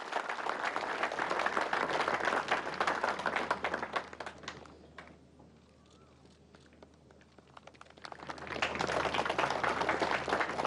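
Applause for Jazz Janewattananond, 2019 Thailand Masters golf champion, at Phoenix Gold Golf & Country Club: dense outdoor clapping that swells, dips to a quieter lull midway, then rises loudly again.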